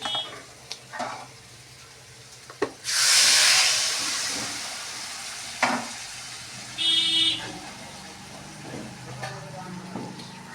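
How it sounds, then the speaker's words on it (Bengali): Fish curry gravy with potato and rohu pieces coming to a boil in a pan, a loud burst of steamy hiss and bubbling after a few seconds, with scattered clinks and a voice speaking nearby. "বন্ধুরা আমার ঝোলটা ফুটছে দেখো"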